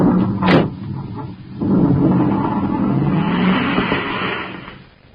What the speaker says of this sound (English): Duncan and Savage roar away in the commander's surface car